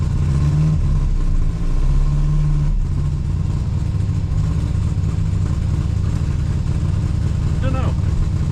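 A car engine runs steadily while the vehicle creeps forward, its idle sitting higher than normal, a continuous close drone with a brief rise near the end.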